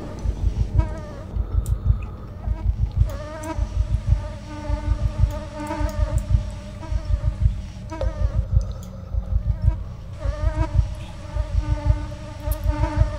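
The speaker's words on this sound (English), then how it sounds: "I hear the flies buzzing." Dense flies buzzing in a scary video game, a steady drone of wings that swells and dips in a regular rhythm, close and fairly loud throughout with no voices.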